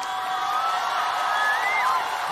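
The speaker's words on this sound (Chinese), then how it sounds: "来我们掌声响起" A live audience at a music show cheers and whoops in a steady, dense crowd roar, with a rising whoop standing out near the end.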